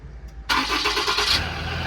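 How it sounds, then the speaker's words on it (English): The Cummins diesel in a 2015 Ram 5500 service truck with 210k miles is started remotely after a quiet pause, cranking briefly then catching into a loud, steady rattling idle close by. "You can also turn the engine back on from the remote."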